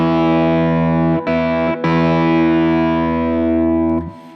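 A sustained, distorted electric slide guitar chord rings out with three stacked octaves, briefly cut twice early on before fading at the end.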